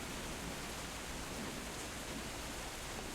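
A rain sound effect played during a tabletop role-playing game: a dense, steady hiss of falling rain, even and unbroken throughout, with no voices.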